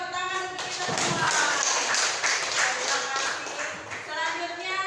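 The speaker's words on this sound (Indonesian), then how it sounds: "Oke, tepuk tangan untuk kita semua." Audience clapping at a school dissemination session on positive culture, a burst of applause lasting a few seconds, fairly close, with a voice speaking over it.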